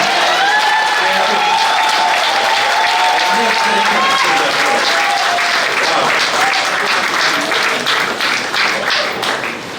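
At a steelband's 25th anniversary celebration, a crowd claps and cheers loudly throughout, with voices and whoops mixed into the steady applause, which turns into more rhythmic clapping near the end.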